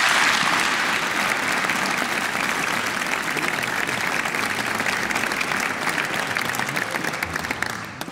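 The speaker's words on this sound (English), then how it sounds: "can we give a massive round of applause for Cassian?" An audience at a young choristers singing competition final gives sustained applause for a performer, a dense, even wash of clapping that holds for several seconds before starting to thin.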